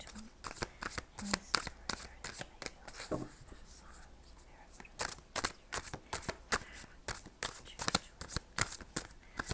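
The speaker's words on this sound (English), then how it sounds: "I like these cards, and I like the way they shuffle." Tarot cards are shuffled in a steady series of quick riffling bursts, close and crisp, with brief pauses between.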